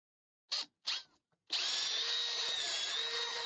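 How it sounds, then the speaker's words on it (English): Two quick bursts of a power drill, then the drill runs continuously, a high whining bit grinding and sticking into material up close. "I'm really annoyed with this drill bit."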